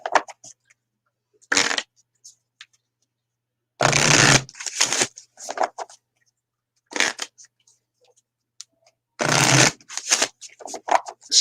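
Tarot and Moonology oracle cards being shuffled nearby in several quick riffling bursts separated by quiet gaps and soft handling taps, with no talking.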